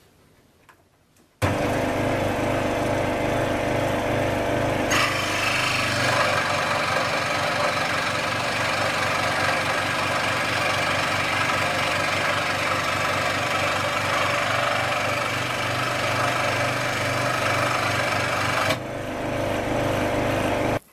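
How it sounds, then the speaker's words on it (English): An electric fret saw cuts a length of wood for a pen blank, making a loud, steady buzzing rattle that runs unbroken for about seventeen seconds with no talking. "we're now going to cut the wood on a fret saw"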